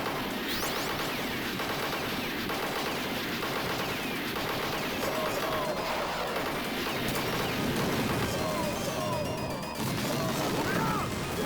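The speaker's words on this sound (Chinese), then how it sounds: "这个地方敌人太多了，我只能用一发 RPG 了" Explosive blasts and rapid gunfire from a 1988 arcade run-and-gun game, with an RPG rocket launcher shot among a dense, continuous stream of loud game effects and music.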